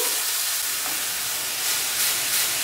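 Vodka sizzles and hisses in a hot pan while deglazing for vodka sauce, a steady broadband frying hiss that swells slightly toward the end, close and alone with no talk.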